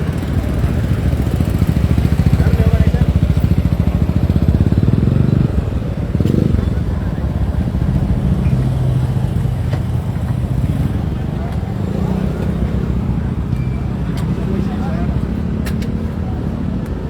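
A motorcycle engine idles and revs with a loud, rough exhaust note during a roadside traffic enforcement check in Iloilo City, the engine rumbling steadily close by while people talk nearby.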